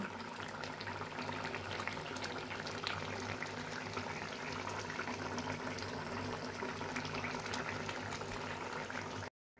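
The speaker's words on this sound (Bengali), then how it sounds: "এইভাবে মাছগুলো বক করে ফুটতে থাকছে কি সুন্দর দেখুন" Tilapia bubbling in a pot, making a steady, dense, close boil with continuous burbling and hissing throughout before it cuts off abruptly at the very end.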